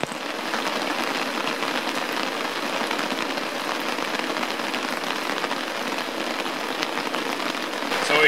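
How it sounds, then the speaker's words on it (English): Heavy rain pours steadily at a wilderness campsite in a northern mountain rainforest, a dense, continuous hiss of drops drumming on surfaces, close and loud throughout with no voices. "It is pouring rain."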